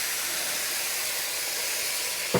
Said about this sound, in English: So we use the old whistling kettle.